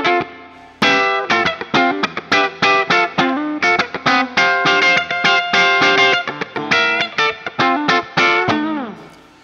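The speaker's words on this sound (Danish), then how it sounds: "Hør, hvordan vi knækker forstærkeren her." Electric guitar with humbucker pickups driving an amplifier into overdrive, playing a loud, distorted run of rapid strummed chords and picked notes that continues steadily throughout, with no voices.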